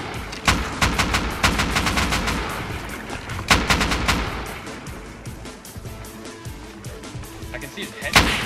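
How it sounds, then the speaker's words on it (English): Rapid gunfire in the online survival game Rust during a base raid, with dense bursts of shots and sharp cracks throughout, loudest near the start and middle, while players talk over it. "Yeah, they're shooting."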